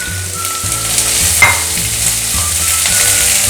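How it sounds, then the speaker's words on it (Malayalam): Onion and cabbage sautéing in a pan for a Kerala cabbage mezhukkupuratti, a loud continuous sizzle with occasional stirring scrapes. "ഇതിന് മുന്നേ തന്നെ നമുക്ക് ക്യാബേജും ചേർക്കാം. ജസ്റ്റ് ഒന്ന് വഴറ്റി എടുത്താൽ മതി."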